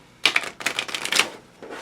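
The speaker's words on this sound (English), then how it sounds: "So you could shuffle these up, just give them a little shuffle." A deck of game cards for the board game La Resistance is given a quick shuffle, heard as a close burst of crisp, rapid riffling and clicking in several short bunches lasting about a second and a half.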